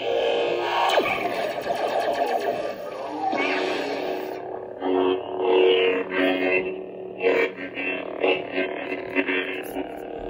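Buzzing, humming electronic lightsaber sound-font effects from a Xenopixel core, with distorted swells and crackles, several short bursts in a row, loud and close, no talking.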